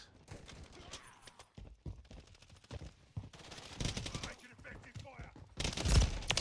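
Sporadic gunfire in Modern Warfare III, short bursts and single shots near and far amid quieter gaps, building to a loud close burst near the end, with some talk mixed in.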